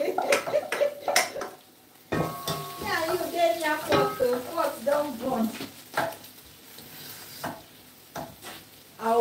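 Nigerian okra soup being stirred in a pot, with close scraping and clattering spoon strokes and a soft simmer underneath, while a person talks over part of it.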